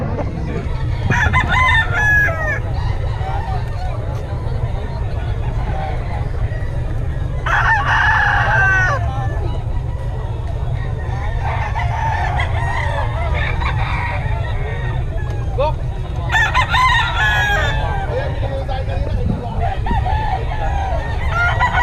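Roosters crowing repeatedly at a festival expo, several loud crows in bursts over a steady crowd murmur and low background rumble, with people talking nearby.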